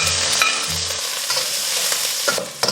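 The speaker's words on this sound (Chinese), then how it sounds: "锅洗干净，再来一丢丢油，先下入姜蒜给它炒香" Ginger and garlic stir-fried in a little oil in a wok, a loud dense sizzle with spatula scrapes and clanks, close up and continuous without speech.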